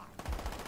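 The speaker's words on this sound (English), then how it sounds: "The shotgun is not that good" Shotgun fire from the Call of Duty Black Ops 1 G11 match on Xbox 360, a short heavy blast with a deep booming tail that sounds close and loud, with no talk over it.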